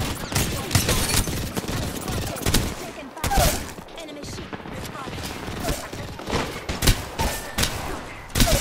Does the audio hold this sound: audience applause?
no